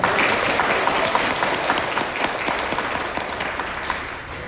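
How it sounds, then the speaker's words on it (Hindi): A crowd at a workers' awareness conference gives loud applause for Babasaheb, many hands clapping in a thick, steady wash that holds at a fairly even level for a few seconds. "तो भाई अपने बाबा साहब के लिए जोरदार तालियां बजा दो ऐसे।"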